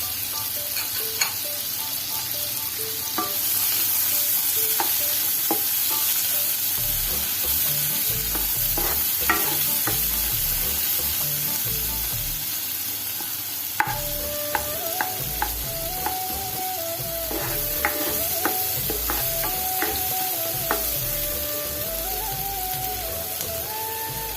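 Onion, green chili and garlic fry for spinach soup in a constant loud sizzle, with repeated spatula scrapes and stirring knocks against the pan throughout, close and without speech.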